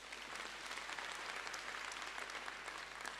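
A crowd applauds one another at a national convention in Soweto, a steady, even wash of many hands clapping, faint and distant throughout, with no clear voices.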